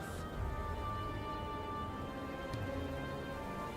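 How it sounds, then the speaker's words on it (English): Steady rain pours over a stormy scene in the video game Final Fantasy XVI, with a faint low rumble of thunder beneath it and no speech, a dense constant wash throughout. "My lady, the thunder."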